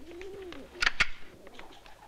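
Pigeons coo softly in an outdoor setting, with a low murmuring coo early on and two sharper, louder bursts near the middle that stand out from a faint background.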